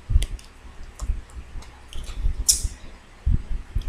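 A deck of tarot cards is cut by hand, giving soft close clicks and shuffling taps spread across a quiet room, with one brief sharper card snap midway.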